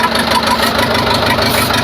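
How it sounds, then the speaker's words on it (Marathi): A second-hand Mahindra 575 or Swaraj 855 FE tractor idles in running condition, a close, loud, steady diesel chug with a fast knocking pulse and low rumble, no voices. "ट्रॅक्टर चालू केलेला आहे चालू कंडिशनमध्ये ट्रॅक्टर आहे"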